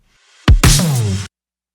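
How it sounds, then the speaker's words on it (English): A short retimed drum fill in a synthwave pop track, loud and alone: two quick punchy hits, then a sustained ringing crash-like wash that cuts off abruptly after about a second. "I found this little quick drum fill that I just retimed"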